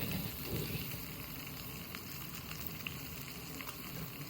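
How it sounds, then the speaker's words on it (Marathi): Steady sizzling and crackling of spices and coriander powder frying in hot oil for a tempering, continuous and close, with no voices. "पहा मस्त अशी फोडणी झालेली आहे"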